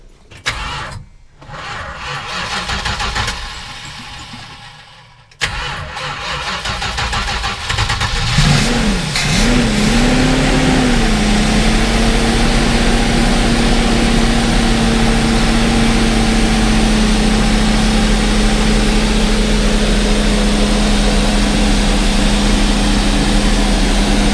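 After a few seconds of rustling and clatter, a 1980 off-road vehicle's engine cranks, catches and settles into a steady, loud idle hum that continues to the end.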